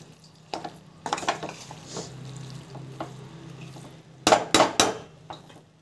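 A flattened rice (aval) mixture sautéing in a pan gives a low sizzle under repeated spatula scrapes and knocks against the metal. A sharp cluster of clatters comes near the end, all close up with no voices.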